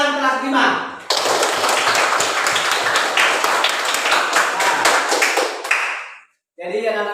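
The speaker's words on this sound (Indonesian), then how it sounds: "Tepuk tangan kelas 5." A classroom of fifth-grade children claps hands together in a loud, dense burst lasting about five seconds, ending abruptly, with a teacher speaking briefly before and after.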